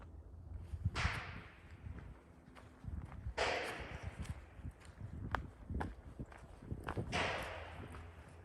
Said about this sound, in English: Those gunshots are way too close for my comfort.